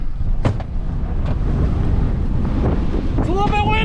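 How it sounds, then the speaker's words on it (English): Strong outdoor wind during an Idaho wind storm on irrigated farmland buffets and roars across the microphone in a steady, loud rush. "It's a little bit windy out here."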